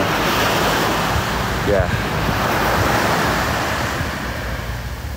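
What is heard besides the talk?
ocean waves breaking on the beach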